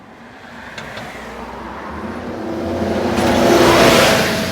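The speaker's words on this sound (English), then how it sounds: "the Optare Olympus, a magnificent and iconic bus soon to be leaving the streets of London" An Optare Olympus double-decker London bus engine revving up, a mid-pitched whirring drone that gradually builds louder and peaks near the end, with no voices over it.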